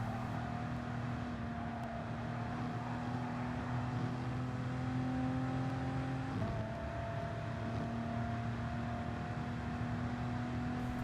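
Race car in Gran Turismo Sport on Circuit de la Sarthe, a steady droning engine tone held at speed with one quick gear shift midway, continuous and even throughout with no talk.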